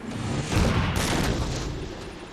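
Bolt Shot sidearm fire in Halo 4 multiplayer, a dense burst of booming game gunfire with explosive low rumble, continuous and loud across the short stretch with no voice over it.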